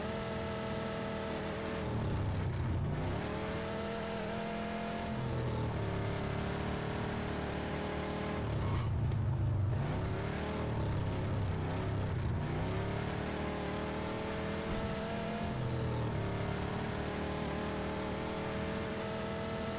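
A 1963 Buena Fortuna Mirado RR in a video game drives along steadily, its engine holding a sustained tone that rises and falls with revving and gear changes, moderately loud and without speech.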